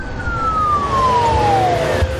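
An ambulance siren sounds loud and close, a single long wailing tone that slides steadily downward over constant road and engine noise.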